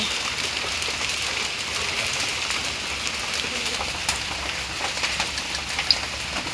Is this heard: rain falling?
yes